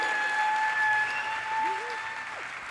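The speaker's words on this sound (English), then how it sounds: "Huge round of applause." Crowd applause at the Aramco STEM Racing World Finals in Singapore, a steady dense clapping that holds throughout, with a whistle or cheer rising briefly in the middle.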